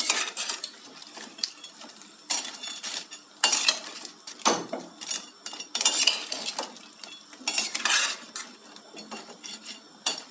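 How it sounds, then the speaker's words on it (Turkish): Fried lokma dough balls being tossed in syrup in a metal pan, giving repeated clattering scrapes and sticky clinks in irregular bursts, close and fairly loud with no talking. "Lokmalarımı şöyle güzelce bir şurupla bir harmanlıyorum."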